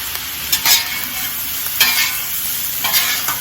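Fried rice sizzles and is stirred on a Blackstone griddle as tamari soy sauce hits the hot surface, a steady close hiss with a few louder scraping bursts and no talk.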